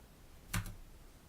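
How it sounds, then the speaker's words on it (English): A single quiet keystroke, like the enter key being struck on a computer keyboard, lands as a short double click in an otherwise faint, still room. "So we can type Vagrant up and hit enter."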